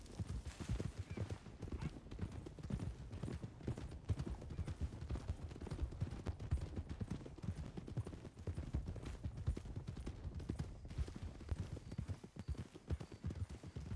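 Horse hooves clip-clopping in the WildRP video game on an Old West hunting ride, a continuous fast rhythmic patter of several horses' hoofbeats, close and steady, with a faint whinny.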